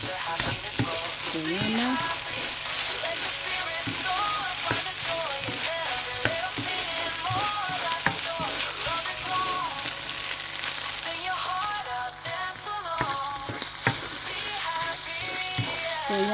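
Special fried rice fries and gets stirred in a hot pan, giving a continuous loud sizzle with repeated scraping stirs and clinks of the utensil, briefly under a short spoken phrase.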